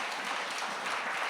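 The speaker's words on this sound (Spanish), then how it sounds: "démosle un aplauso al Señor" Church congregation applauding during a worship service, a steady, fairly soft patter of many hands clapping together without pause.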